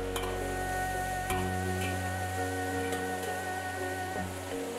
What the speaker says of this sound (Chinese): 把黄鳝和大蒜下锅以后，加白酒煸炒一下